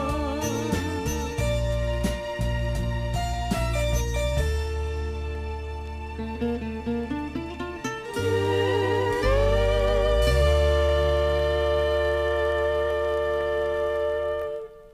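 A Japanese 45 RPM vinyl record plays a sampled passage of tonal, chiming notes and sustained open chords, loud and clear, with short percussive hits early on and a held tone that fades at the end.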